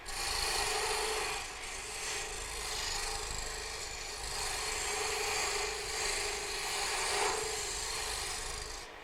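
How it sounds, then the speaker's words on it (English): A skew chisel cuts into spinning wood on a lathe, working with its point, and gives a continuous rasping, scraping hiss that swells and eases slightly in a steady rhythm, close and unaccompanied by speech. "a lot of times you cut with the point of a skew rather than just the face of it"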